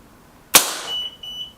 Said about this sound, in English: let's try the Vought over the chronograph. Let's see how we can do. Okay, that's there. First shot.